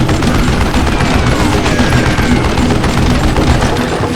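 Dense video game gunfire, a continuous loud barrage of overlapping shots and automatic bursts with no pause, filling the whole stretch at close range.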